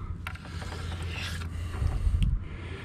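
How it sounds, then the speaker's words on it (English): A knife slices the dark bloodline out of a catfish fillet, producing steady close rasping and scraping strokes, with a few sharper cuts and no voices. "we'll cut this off, cut that bloodline out"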